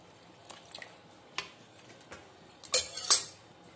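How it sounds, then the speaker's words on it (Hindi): Metal utensils scrape and clink against a pot as cooked mutton for Lucknow dum biryani is lifted out of its gravy, scattered soft taps building to a couple of louder clanks near the end. "मटन को बस ग्रेवी से अलग कर दीजिए"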